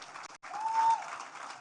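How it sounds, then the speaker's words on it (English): Steady crowd applause fills a hall at the MTN Turbonet product launch in the Accra Digital Centre, a continuous dense wash of clapping with a short dip midway. "Another round of applause, ladies and gentlemen."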